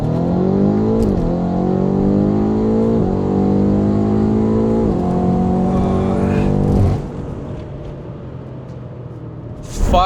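An 800 hp tuned BMW M5 F90 engine revs hard and climbs through several gear shifts from 100 to 200 km/h, loud and close, then cuts off abruptly, with a short burst at the end.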